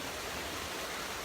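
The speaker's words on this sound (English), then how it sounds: "I'm going to show you the river again" Steady broadband rush of river water flowing, a continuous close wash with no breaks and no voices.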